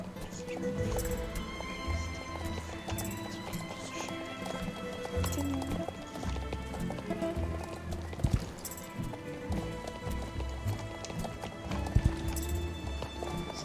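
A horse gallops in a video game, with steady clip-clop hoofbeats running throughout amid layered game sounds and occasional whinny-like accents, moderately loud.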